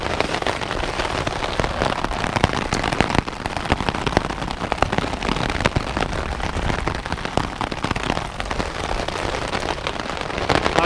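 Hail pelts a tent pitched in the mountains near a ski area, a dense, unbroken rattling patter with sharp individual impacts, loud and close throughout.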